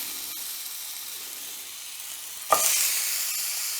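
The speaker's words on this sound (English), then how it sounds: "And now I'm going to add the lamb chops." Lamb loin chops drop into hot neutral oil in a cast iron skillet, setting off a sudden loud sizzle partway through that then holds as a steady hiss.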